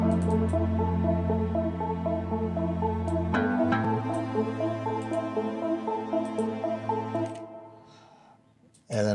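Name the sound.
pluck synth from Hive plugin in FL Studio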